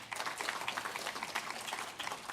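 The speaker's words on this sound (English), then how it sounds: "So you might just give them a round of applause." Audience applause at an educators' summit in Ireland, a dense steady wash of many hands clapping together, moderately distant and continuous throughout with no pauses.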